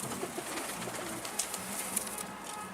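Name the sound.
pigeon cooing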